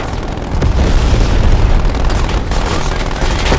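Airstrike explosions in Black Ops Cold War multiplayer on Nuketown roll out as a loud, dense stretch of booming blasts and crackling bursts, sustained and close with no break for its full length.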